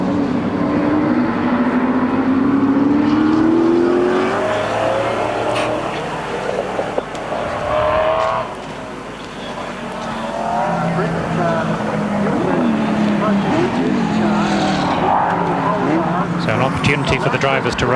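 Race cars on the track at the 1993 Sandown 500, engines rising and falling in pitch as they pass, loud and continuous throughout, with a voice likely talking over the engine noise.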